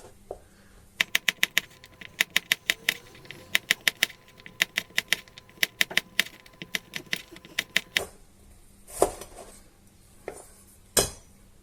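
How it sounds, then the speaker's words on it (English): A knife chops through garlic cloves into thick slices on a board, making a series of sharp, close, rhythmic taps in quick runs, then a few slower, heavier knocks near the end. "by slicing the garlic cloves. Thickish slices, like that."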